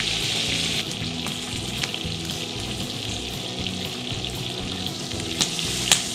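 Breaded cod flakes, dipped in egg and flour, sizzle steadily in a pan at a winter campsite, a dense continuous frying crackle with a few sharper pops near the end, no talking.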